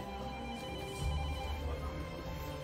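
A telephone rings in a restaurant kitchen in Corte, its steady electronic ringing running through the whole stretch over a low background hum, with no talk.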